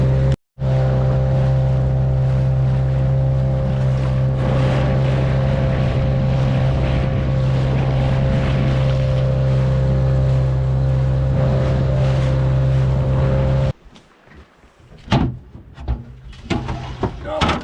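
A motorboat engine drones loud and steady near a remote fishing and farming village, with a constant low hum and water hiss, cutting out near the end to gusty rumbling and splashes.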